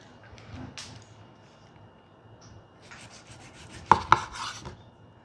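A not-so-sharp knife saws through a shrimp tempura sushi roll in short, dry rasping strokes, with a couple of sharper crunchy cuts near the end, close and fairly quiet.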